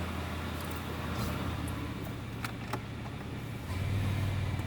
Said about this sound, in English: You just heard the compressor kick on.